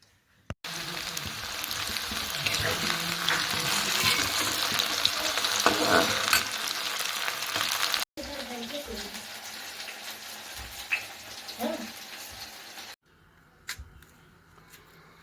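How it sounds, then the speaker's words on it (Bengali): Peeled pointed gourd (potol) fries in a pan for a Bengali Sankranti meal, giving a loud, steady sizzle for several seconds. The frying then drops to a quieter crackle broken by stirring clinks before it cuts off. "তো চোকলাটা ছাড়িয়েই নিচ্ছি, ভাজা করব।"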